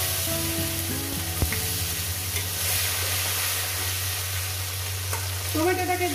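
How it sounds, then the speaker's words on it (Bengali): Tomato frying in a pan after dried red chillies were tempered, for a Bengali fish-head and papaya dish, giving a loud continuous sizzle with a few stirring clinks and a steady low hum underneath. "টমেটোটাকে দিয়ে কয়েক সেকেন্ড একটু ভেজে নেব।"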